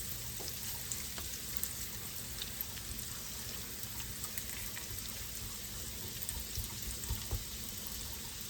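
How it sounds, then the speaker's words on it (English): Chipped beef browns in a hot pan, giving a soft, continuous sizzle with faint crackles and scattered pops throughout, quiet and close, with no talking. "I'm just browning up my chipped beef a little bit"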